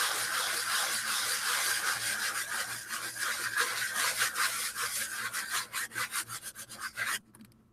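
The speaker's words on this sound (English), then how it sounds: "I'm going to take my sanding block and just hit those high areas." Steady, raspy rubbing of a sanding block across wood, continuous strokes close by that turn choppier and more distinct near the end before stopping.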